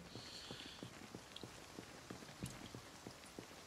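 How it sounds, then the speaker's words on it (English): Rain falling in the video game Project Zomboid, a faint, steady patter of drops on surfaces with a soft hiss throughout and no voices. "Today, it's raining."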